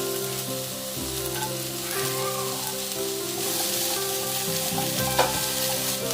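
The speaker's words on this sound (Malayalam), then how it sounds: "സവാള ഒരു ട്രാൻസ്പെറന്റ് ആവുന്നത് വരെ നമുക്കിതൊന്ന് വഴറ്റിയെടുക്കണം." Onion and capsicum sautéing in a pan over medium flame make a continuous close sizzle with occasional stirring scrapes, and a low steady hum underneath.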